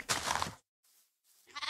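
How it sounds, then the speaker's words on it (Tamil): A Minecraft sheep bleats once in a short, loud burst, followed by quieter faint sounds and the start of another bleat. "இங்கே எங்கேயோ ஆடு கத்துற சவுண்டு என் காதில் விழுந்துச்சு"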